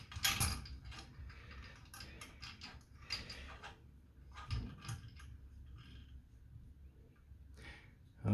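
A 3D-printed filament spool holder part is twisted onto a washer, making faint plastic clicks, creaks and rubbing scrapes in short bursts amid quiet pauses.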